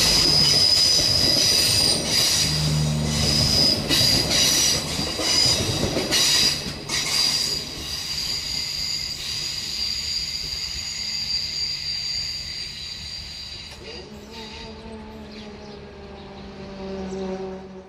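A local passenger train from Granada arrives at Alora station in Andalusia, its wheels giving a loud, high, sustained squeal over rumbling rolling noise that eases off as the train slows. No one talks.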